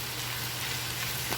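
Garlic for fried rice frying in a pan, a steady close sizzle with crackling spatter and no voices.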